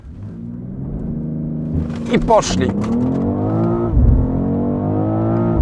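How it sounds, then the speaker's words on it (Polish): BMW X3 M Competition launched at full throttle with the brake held, its engine roaring loud and close, climbing through revs with a gear change midway as someone speaks briefly over it. "Naciskam gaz do dechy, żeby się napompowała turbinka."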